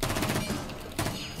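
Rapid gunfire from Rainbow Six Siege crackles in dense bursts over roughly a second and a half, loud and close with a short break partway through.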